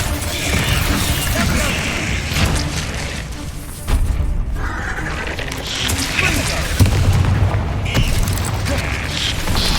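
An Incendio fire spell goes off in Hogwarts Legacy amid busy game combat, with bursts, whooshes and mechanical clanks layered over a speaking voice, dense and continuous.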